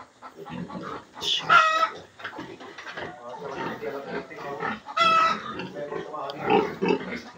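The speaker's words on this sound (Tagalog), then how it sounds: "13 piglets." Piglets in a cemented piggery pen squeal and grunt in short, overlapping bursts close by, with a few sharper high squeals, while people talk throughout.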